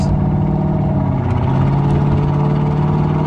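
A deep, throaty supercharged V8 in a Mk2 Jaguar with straight-pipe exhaust rumbles loudly and continuously, close up, at about 30 mph, with a coarse exhaust burble and no talking.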